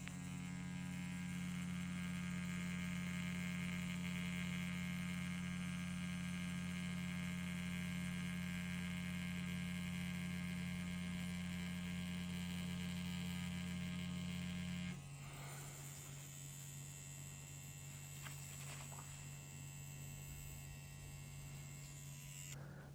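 Inkin Inferno wireless tattoo machine running a 3 round liner, a steady close electric hum and buzz that continues alone without a break, dropping slightly in pitch and strength partway through.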